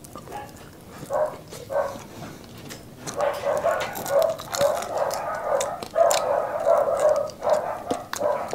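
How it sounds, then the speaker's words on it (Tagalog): Several neighbouring dogs bark in bursts, some barks overlapping, at moderate distance, with a steady background hum. "Ingay po ng mga aso po sa kapitbahay."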